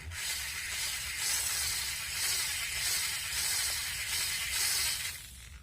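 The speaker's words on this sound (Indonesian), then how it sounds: "Mata burnya sudah mulai nembus, cepat-cepat kita tarik keluar burnya." A steady, hissing grind of a drill bit boring through plastic, continuous and fairly close, with no talking.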